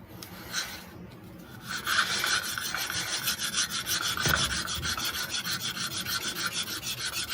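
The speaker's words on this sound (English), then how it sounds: "You could flip this saw entirely over and use the fresh edge." Bamboo fire saw rubbed back and forth against bamboo for friction fire, a close, rhythmic rasping scrape with fast regular strokes that grows steadier and more even.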